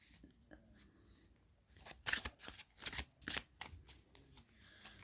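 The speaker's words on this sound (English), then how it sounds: "I'm throwing the cards everywhere here." A deck of tarot cards shuffled and handled for a monthly Aries reading, starting with soft rustling and rising into several loud, crisp riffling bursts in quick succession, with no voices.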